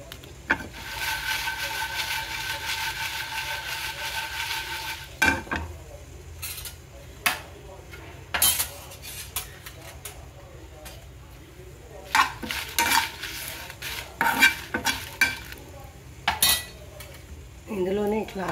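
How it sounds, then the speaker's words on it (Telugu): Dried red chillies are fried in a pan while a utensil stirs them. A soft sizzle comes first, then repeated scraping and clinking of metal against the pan, up close. "ఇప్పుడు ఇదే బండిలో ఎండుమిరపకాయలు వేసి"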